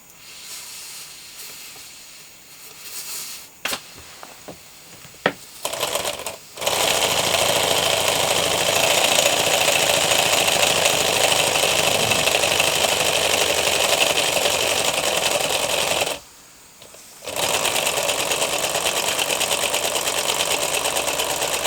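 A converted model steam engine with an upgraded safety valve runs with a steady, loud hissing, whirring drone after a few clicks and knocks. It stops briefly partway through, then resumes at the same level.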